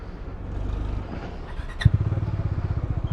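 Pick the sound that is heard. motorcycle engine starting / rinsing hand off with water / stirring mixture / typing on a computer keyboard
motorcycle engine starting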